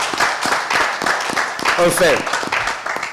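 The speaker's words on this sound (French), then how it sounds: "Vous pouvez applaudir." A crowd applauds and claps at a 50th-anniversary event for Groupe Salongo as the performers are introduced. Steady clapping runs throughout beneath someone speaking over a loudspeaker.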